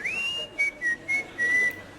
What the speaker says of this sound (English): I got it wrong, I wolf whistled